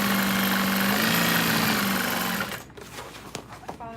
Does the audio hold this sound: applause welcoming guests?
no